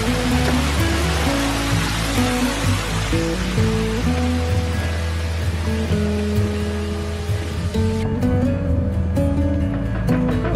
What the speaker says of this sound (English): Beginning of the waterfall.